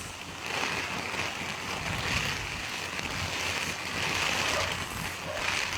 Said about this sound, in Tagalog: Ay, lakas ng ulan.